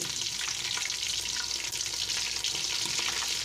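Ginger garlic paste frying in a pan for chicken yakhni pulao, a steady dense sizzle that holds loud and even for the whole stretch, with no voices.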